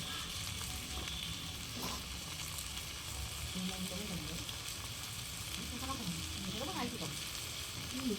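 Spices, onion, tomato and turmeric fry in a pan for a katla fish curry, making a continuous hissing sizzle with occasional stirring scrapes while a voice talks quietly over it.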